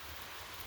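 Rain falls in a steady, even hiss, a brief unbroken wash of close, moderate patter with no voices.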